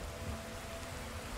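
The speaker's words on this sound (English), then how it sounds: "it is now raining, and it is raining super hard due to True Storms mod" Heavy rain from the True Storms mod in Skyrim Special Edition, a steady dense wash of downpour with low rumbling beneath it, continuous and even throughout with no talking.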